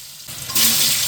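Cumin seeds and three bay leaves hit hot oil for tempering. A sudden loud sizzle bursts up and holds steady after a brief quieter moment.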